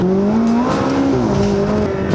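A McLaren 570S Spider sports car engine hums steadily at moderate speed with a smooth, rising and settling tone, loud and close, with no talking.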